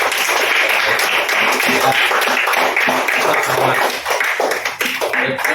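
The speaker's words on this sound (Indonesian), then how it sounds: "berikan tepuk tangan dulu kepada teman-temannya." Students in a classroom applaud their classmates, giving a thick, continuous round of clapping that stays loud throughout and thins slightly near the end.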